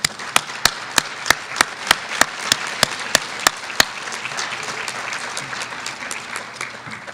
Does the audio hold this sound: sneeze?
no